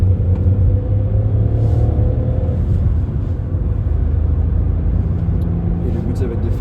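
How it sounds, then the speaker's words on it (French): Volkswagen Polo accelerating firmly, a steady close engine rumble with road noise that holds loud throughout without clear gear changes. "Donc là on va faire voilà, petite accélération assez franche."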